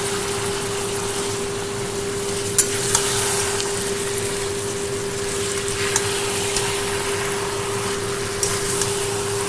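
Hilsa fish heads and jute leaves fry in oil in a pan while being stirred, a steady close sizzle under a constant hum, with a few sharp clinks from the utensil.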